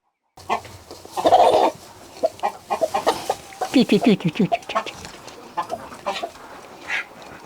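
Village chickens cluck and cackle near the microphone in a rural yard in Sumy region, with bursts of clucking while someone talks over them.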